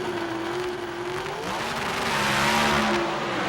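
Two drag race cars, a Pontiac and Bob Glidden's Ford Thunderbird, roar down the strip in a 1983 NHRA Springnationals semifinal, their engines loud and sustained, with the pitch shifting as they accelerate.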